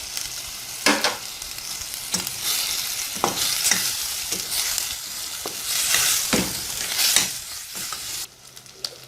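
Cardamom, bay leaves and a stock cube drop into a pot of chicken frying with turmeric and paprika: a steady, fairly loud sizzle broken by repeated scraping and clanking of a spoon against the pot, with no talking.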